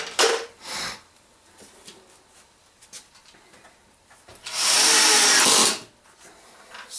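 Power drill driving screws into wood while building an ammo box, two short bursts, the second and louder one lasting about a second, with faint handling knocks between.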